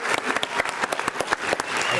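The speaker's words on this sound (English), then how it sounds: "Let's give them a round of applause." Applause for students at a school board meeting, distinct individual hand claps from a modest group in a room, close and fairly loud with an uneven rhythm.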